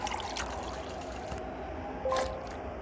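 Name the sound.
water pouring while collecting drinking water in a video game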